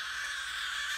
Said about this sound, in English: This is the sound of